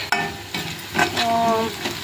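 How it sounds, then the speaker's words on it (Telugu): Mushrooms for a curry frying and being stirred in a pan, steady sizzling with scraping spoon strokes and light metallic clinks, close and clear. "చూడండి ఫ్రై అవుతూ ఉన్నాయి."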